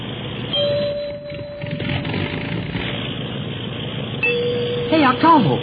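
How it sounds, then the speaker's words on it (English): A few clear ringing glass notes sound near the end, following a steady tone and a low droning hum with faint talk underneath. "Watch it intently as I strike a variety of notes on the musical glasses."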